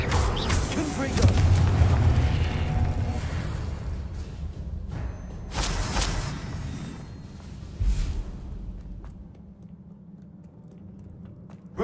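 Confringo fire spell blasts in the Hogwarts Legacy video game, a series of booming explosions with a loud burst near the start and another around the middle, fading into rumbling game ambience between hits.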